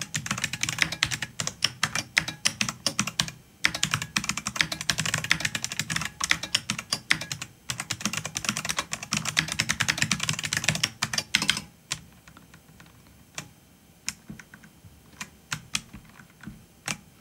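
Fast, steady typing on a mechanical keyboard with Brother-made buckling spring switches, as built for IBM, giving close, loud clattering keystrokes for about twelve seconds before thinning to a few sparse, isolated clicks.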